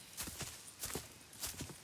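Horse hooves clip-clopping in Red Dead Redemption 2, several soft, quiet hoof strikes in an uneven walking rhythm over a couple of seconds, with no talk.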